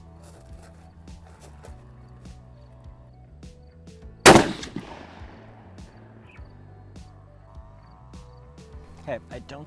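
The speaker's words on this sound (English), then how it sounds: "there's more recoil than I anticipated, and that's because there's no brake, and this is a lightweight gun" A single loud, sharp rifle shot from a lightweight Savage Axis XP 6.5 Creedmoor with no muzzle brake, firing 140 grain ammunition, cracks midway through, with a brief decaying echo against quiet outdoor background noise.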